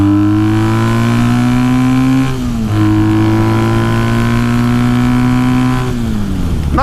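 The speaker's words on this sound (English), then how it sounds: "Let's give it a full throttle" A custom Triumph T100 cafe racer motorcycle runs at full throttle, its loud, steady engine roar climbing in pitch and briefly dipping twice at gear shifts before pulling hard again.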